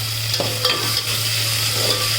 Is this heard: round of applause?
no